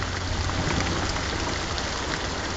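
Steady rain pours down in a continuous, dense hiss, close and moderately loud, with no voices.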